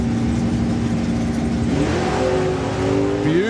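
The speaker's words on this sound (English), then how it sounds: "Beautiful wheels up launch there for Reuben" Reuben's drag racing car making a wheels-up launch at the Springspeed Nationals 2025: a loud, sustained engine roar that climbs sharply in pitch near the end as it revs hard, with no talk.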